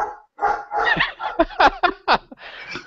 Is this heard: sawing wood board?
no